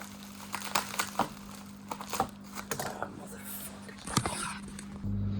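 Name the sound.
unboxing packaging for Mazda RX7 FD canards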